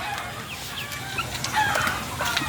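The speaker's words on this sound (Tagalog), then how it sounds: "nagiingay na yung mga tandang do sa kabilang bahay" Chickens clucking and roosters crowing from a neighboring house at a moderate distance, several overlapping bird voices against steady outdoor background noise.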